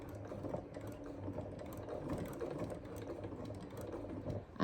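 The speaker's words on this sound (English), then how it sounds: "I'm going to sew an angled stitch right across there" A sewing machine runs steadily on fabric, stitching an angled line in one continuous whirring, rattling run with no pauses and no voices.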